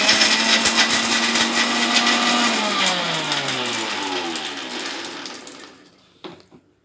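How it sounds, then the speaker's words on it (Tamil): Mixer grinder grinding chickpea batter with garlic, a loud steady motor whine that drops in pitch as it winds down, then a rattle as it stops. "அடிச்சுக்கோங்க மிக்சியில்."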